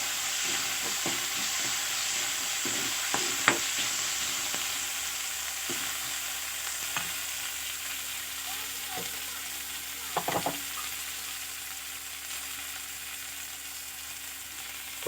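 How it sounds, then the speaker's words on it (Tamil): Tomatoes sauté in a hot pan with a steady soft sizzle, while a spoon scrapes and clicks against the pan in scattered strokes. The cooking sounds are moderately quiet, and no one talks. "நல்லா வதங்கினது தக்காளி"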